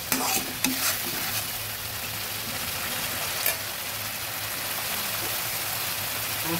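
Katla fish curry with a splash of added water being stirred in a pan: steady close scraping and stirring over a low bubbling simmer, with a few louder clinks near the start and around the middle, no voices.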